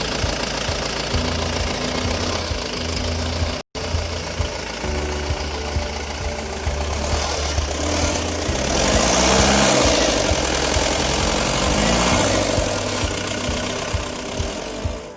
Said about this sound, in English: This is the 2523cc diesel engine. It produces 75 brake horsepower and is very loud.